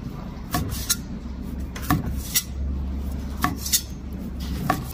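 A knife cuts smoked Sichuan cured pork on a wooden chopping board: several sharp, fairly close taps and scrapes at irregular intervals over a steady low background hum.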